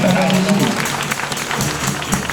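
A church congregation applauding during a Saturday service, a dense, steady clatter of many hands clapping close by, with voices and singing mixed through the applause.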